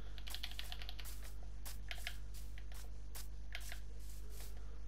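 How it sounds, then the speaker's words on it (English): Computer keyboard keys clicking during a Minecraft game session, a rapid irregular run of close, crisp taps over a constant low hum, with no talking. "You probably can hear my clicking."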